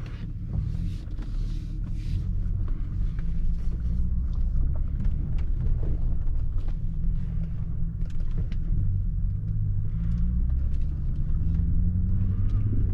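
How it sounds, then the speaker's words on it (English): A BMW 750i with a V8 engine drives slowly through city streets, its deep low rumble steady throughout, with faint rattles and wind noise over the top. "Not the ideal place, guys, for a V8 of this kind to be driven."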